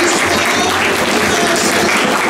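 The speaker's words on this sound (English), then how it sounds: "give your hands of applause for these" An audience at a high school history lecture breaks into dense, loud applause that sustains evenly through the short moment.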